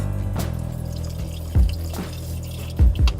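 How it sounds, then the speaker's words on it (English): Vegetable broth is poured into a soup pot on the stove, giving a few short liquid splashes and glugs, near and brief, separated by quieter moments. "I'm gonna go ahead and add the vegetable broth."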